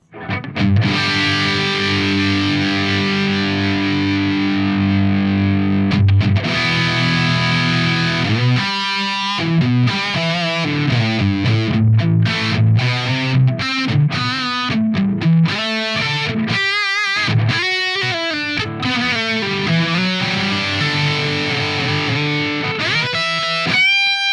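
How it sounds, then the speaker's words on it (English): Heavily distorted 80s-style electric guitar played straight through an amp and cabinet, with tons of gain, loud and sustained, shifting from thick chugging chords to ringing lead notes and bends, alone without talk. "All we're gonna be hearing here is guitar into amp, amp into cabinet."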